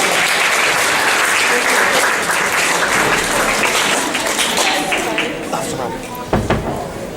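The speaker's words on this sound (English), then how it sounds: "Give these guys a round of applause, please." A convention audience applauds volunteers at a Pokémon mythology panel, sustained loud clapping from a full room that gradually thins toward the end, with a few louder thumps near the close.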